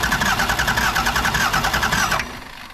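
Engine cranking and trying to fire, a loud rhythmic starter churn with pulsing beats for about two seconds before it stops and only a low rumble remains.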